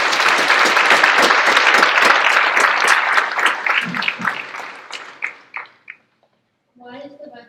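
An audience at a school Veterans Day assembly breaks into brisk, crowded clapping that thins to a few scattered claps before a voice speaks briefly at the end.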